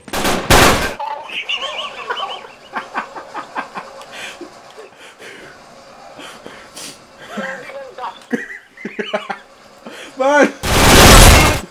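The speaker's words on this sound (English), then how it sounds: "What was he shooting at? That big ass machine gun, though." Gunfire in Uncharted 3 online multiplayer: rapid bursts of heavy machine gun fire crackle through the middle of the match, mixed with game effects and loud excited talk from players, with heavy blasts at the start and end.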